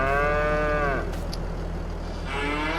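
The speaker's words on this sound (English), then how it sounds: "So cows, you're going out. You're going to an outdoor pasture." Cows moo in Farming Simulator 22, a long, loud, close moo with a steady low hum beneath, a pause of about a second with a faint click, then another moo starting, and no talk.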